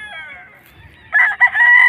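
A rooster crows among chickens offered for sale, a loud, close, brief crow that rises into a strained, broken call.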